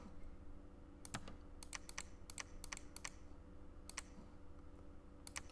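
Computer keyboard keys pressed during a game of Dominions 4, a run of sharp, quick clicks in irregular clusters over a quiet room hum, no talk.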